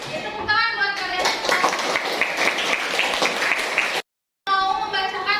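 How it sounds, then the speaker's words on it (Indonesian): Students in a classroom break into sustained, dense applause for several seconds, with a brief gap and a speaking voice around it. "Ya, tepuk tangan buat kalian"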